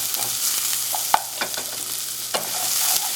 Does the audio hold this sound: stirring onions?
yes